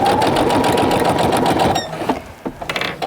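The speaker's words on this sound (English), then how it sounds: "I'm reinforcing those stitches at the beginning" Sewing machine reinforcing stitches on a zip top bag: a loud, close, steady running hum that stops after about two seconds, followed by a few quieter handling clicks.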